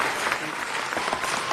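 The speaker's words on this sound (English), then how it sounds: "Can we give them a round of applause?" Applause fills a Los Angeles city council meeting, a steady, dense wash of many hands clapping at moderate distance for the whole short stretch.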